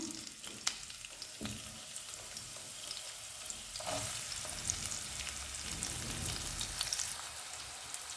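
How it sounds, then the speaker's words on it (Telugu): Chopped onions and curry leaves crackle as they hit about two tablespoons of hot oil, a close, steady sizzle with a few louder spatters and stirring scrapes, no speech. "ఈ ఆయిల్లోకి మనం కట్ చేసుకొని పెట్టుకున్న ఉల్లిపాయలు, కరివేపాకు కూడా వేసుకుందాం."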